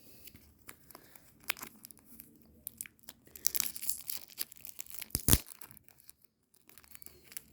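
A sealed football card pack wrapper is torn open at close range, with scattered crinkles and crackles building into a dense burst of tearing and crumpling, then a sharp rip before things settle again.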